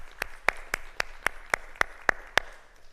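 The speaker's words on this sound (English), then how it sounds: "let's give everyone a round of applause" Applause from an audience at a senior capstone showcase in a performing arts center, sounding as about nine evenly spaced, sharp, loud claps over a soft background wash.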